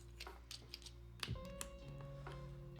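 Mechanical keyboard typing test: scattered, crisp key clacks in an irregular rhythm, close and moderately loud, with a sustained tonal hum underneath and no speech.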